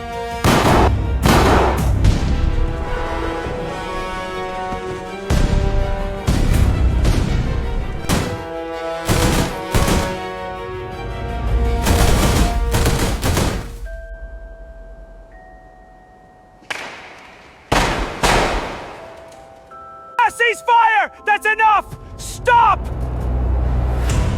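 A unit of soldiers in a drama fires volleys of gunfire in loud, booming bursts clustered early in the scene, followed by quieter stretches, with voices and other sounds around them.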